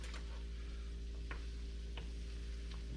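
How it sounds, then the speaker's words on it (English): Short rib mixture sautéing in a pan over medium-high heat, a steady low sizzle running throughout with a few faint scrapes or clicks from stirring, no voices. "3 to 5 minutes, let it saute."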